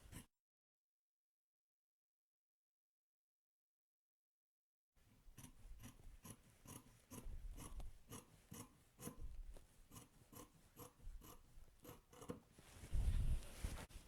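Scissors cutting fabric pattern pieces for an off-shoulder bustier dress: after a long silence come quiet, regular snipping and rustling strokes, ending with a louder rustle of the cloth.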